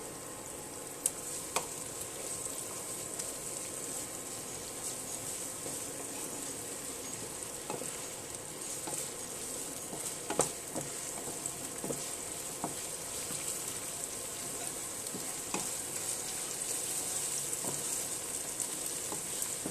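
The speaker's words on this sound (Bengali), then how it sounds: "সয়াবিন তেলে আমি আগে পেঁয়াজটাকে হালকা ভেজে নিচ্ছি" Onions fry gently in soybean oil with ginger, cumin and garlic paste for chicken rolls, a faint, even sizzling hiss dotted with occasional small pops and ticks, continuing quietly throughout.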